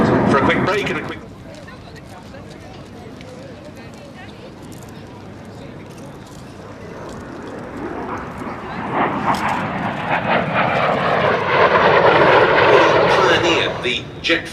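A MiG-15UTI two-seat jet trainer and a de Havilland Vampire jet fighter depart Duxford for a display, their jet roar swelling loudly from a steady background rumble and holding strong to the end.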